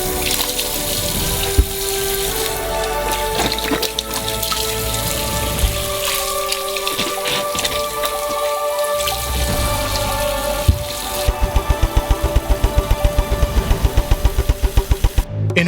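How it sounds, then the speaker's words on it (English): Oranges being washed by hand in a sink filled with water, with steady running and splashing water throughout and a burst of rapid, rhythmic sloshing near the end as the fruit is scrubbed. "And each orange needs to be thoroughly washed."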